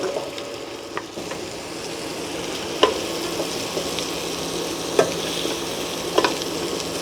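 Squash and string beans saute in a pan for seafood pinakbet, a steady close sizzle with occasional sharp scrapes and clacks of a utensil stirring, no voices.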